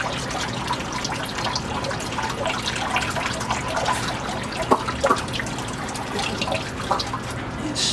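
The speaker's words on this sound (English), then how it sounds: "I put it over the mouth of the barrel and dump the water out" Water pours and trickles out of a rock tumbler barrel through a strainer, a continuous splashing flow with a few brighter drips and spatters toward the end, close by and fairly loud.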